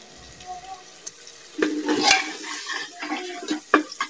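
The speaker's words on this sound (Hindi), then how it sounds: "तो अब इसमें मैं लहसुन का पेस्ट और अदरक का पेस्ट जो बना के रखा था वो ऐड कर रही हूँ।" Garlic and ginger paste sizzles in frying masala for a mutton korma, with stirring scrapes and light metal clinks from the pan, rising in bursts of hiss at close range, no talk.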